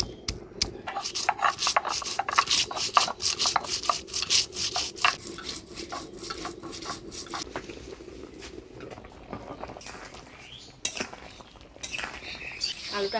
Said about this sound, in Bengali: মশলার মধ্যে আমি আদা, শুকনা লঙ্কা, গোটা ধইনা একসাথে বাইটে নিই।